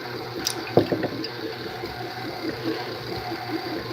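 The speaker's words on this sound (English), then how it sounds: "You just pour water in until it starts" Water is poured into crumbly homemade pie crust dough for a pumpkin pie, a short close splash and trickle of liquid at the start, then fading into quiet kitchen room tone.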